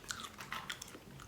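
Dry Cini Minis churro cereal being chewed close up, a quiet series of brittle crunches and bites over about a second, with no talking.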